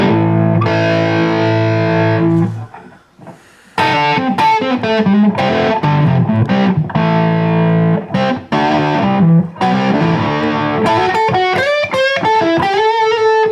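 A heavily distorted electric guitar through a Line 6 Spider III 75 modeling amp plays a chunky riff, with sustained chords, a brief pause, then choppy, gritty rhythmic phrases up close.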